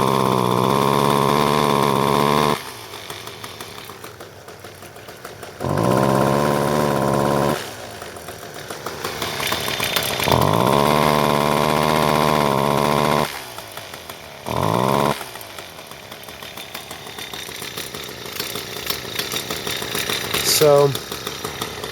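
A John Deere weed eater's small two-stroke engine alternates between a quiet idle and loud rising revs in several bursts, close by.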